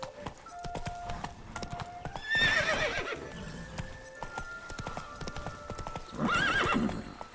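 A horse in the Witcher 3 video game gallops with rapid, rhythmic hoofbeats and lets out two loud whinnies, one early and one near the end, over quiet game ambience.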